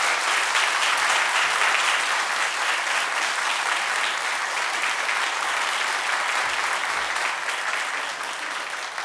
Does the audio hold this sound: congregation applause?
yes